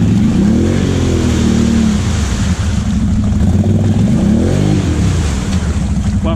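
A stuck car's engine revs loudly in repeated rising and falling surges as it struggles up a hill, close by and dominating the scene.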